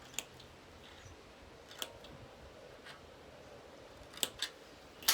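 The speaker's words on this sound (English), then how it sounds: "I'm just going to use my snips. I'm just going to make some little snips in by each of the" Small sewing snips make a few sharp, quiet clicks while cutting little notches into dress fabric, spaced irregularly over a faint room hush and bunching toward the end.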